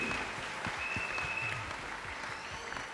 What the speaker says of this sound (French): Applaudis très bien pour le Seigneur Jésus-Christ.